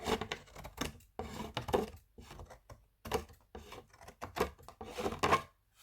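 Small scissors snip through paper card while a handmade card is trimmed, a quiet series of short, close cutting and rasping strokes in irregular bursts with brief pauses between.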